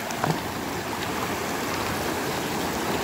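The strong current of the Labi River rushes over large rocks, making a loud, steady wash of water noise that continues evenly throughout with no voices over it.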